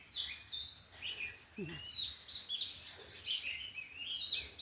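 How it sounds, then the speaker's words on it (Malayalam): Small birds calling from a fruit-laden tree in front of a house, a scatter of high, quick chirps and tweets repeating throughout, faint to moderate and distant, with no voices. "ഒച്ച മാത്രമേ കേൾക്കുള്ളൂ, എവിടെയും കാണുകയില്ല. ചെറിയ പക്ഷികളാണ്."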